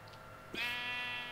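A single Minecraft sheep bleats loudly and steadily, a drawn-out nasal cry that holds for nearly a second over a faint background hum.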